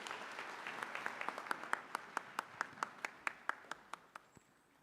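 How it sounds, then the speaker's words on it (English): Audience at a university graduation ceremony in a large hall applauding, many hands clapping and settling into a rhythmic unison beat that gradually fades out. "May we applaud the Chancellor again."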